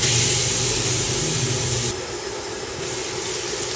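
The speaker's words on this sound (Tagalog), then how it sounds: "Lagay na natin yung bawang at sibuyas." Garlic and onion sauté in plenty of hot oil, giving a loud, close, steady hiss that drops to a softer, quieter sizzle partway through, with no one speaking.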